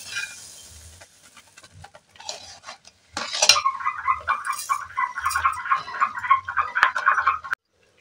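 A utensil scrapes and clinks steadily against a pan while homemade tomato sauce with sugar is stirred, close and fairly loud in a quick repeating rhythm after a few sparse taps.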